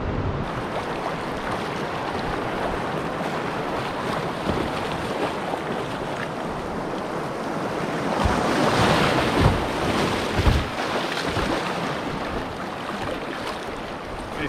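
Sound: canoe running a small whitewater rapid on a river

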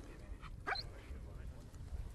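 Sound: griffon hunting dog whimpering and barking

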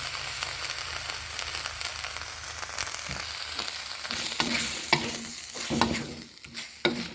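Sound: pork panang curry paste cooking with coconut milk

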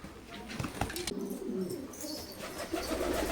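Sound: pigeons cooing

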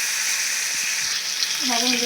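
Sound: fish and prawns frying in a pan

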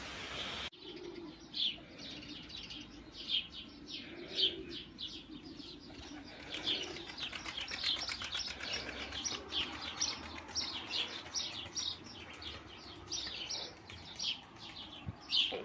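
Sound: young pigeon calling

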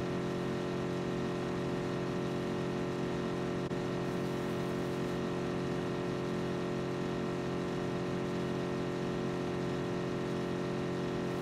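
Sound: car driving in a video game, PUBG

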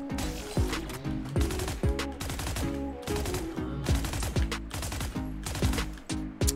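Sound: Valorant Phantom Champions 2024 skin gunfire, from a video game

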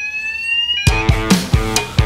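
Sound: fire alarm

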